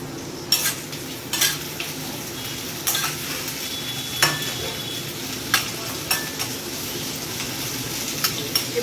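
Onions frying over a medium flame in a pan for masala chana dal, a soft steady sizzle punctuated by occasional light scrapes and clinks of a utensil stirring.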